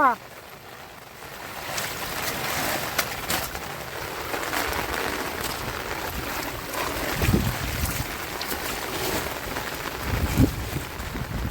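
Heavy monsoon rain falling in a village, a continuous wash of drops on surfaces with gusts of wind, moderately loud and steady, with occasional louder splashes and faint voices in the background.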